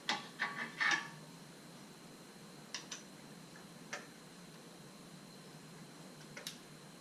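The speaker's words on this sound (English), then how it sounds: "guide your socket and your extension back inside so you can tighten the spark plug" Sparse ratcheting clicks from a socket wrench with an extension as a spark plug is tightened in the engine bay of a 2003 Mini Cooper: a quick cluster near the start, then isolated faint ticks spaced seconds apart in a quiet space.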